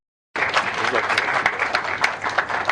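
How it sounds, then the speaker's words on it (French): An audience at a press conference breaks into steady applause after a moment of silence, a dense patter of many hands clapping that holds to the end. "à rejoindre cette place d'honneur que je vous prie d'applaudir"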